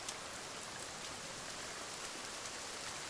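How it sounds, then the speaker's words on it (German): Steady rain falling in a forest in the video game The Forest, a dense even hiss of drops with no voices, constant in level throughout. "Hier im Wald regnet es noch."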